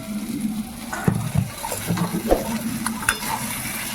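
Potatoes drop into hot oil in a pan of spicy pangas and tengra fish curry cooked village-style, giving a steady close sizzle broken by several clattering stirs and knocks against the pot.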